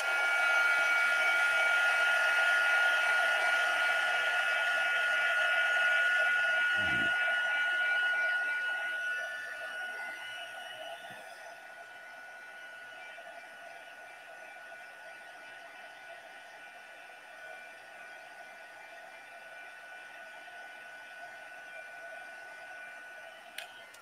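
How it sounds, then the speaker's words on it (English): A heat gun blows a loud, steady whooshing hiss while drying a card-making project, with one brief thump partway through, then continues at a softer level until the end. "I need to grab my heat gun and I'm going to dry this."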